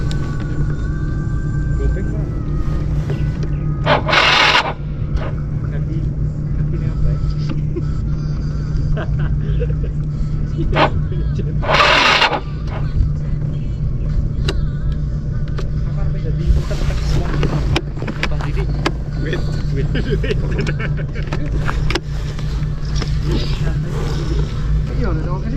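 A boat's motor engine runs with a steady low droning hum that continues throughout, while people talk over it and a few sharper bursts of noise cut in.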